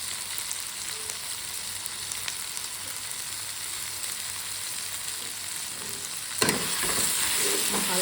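Kashmiri chilli powder and salt being stirred into ghugni in a frying pan make a steady low sizzle with soft scraping, then a sharp clatter and louder sizzle near the end.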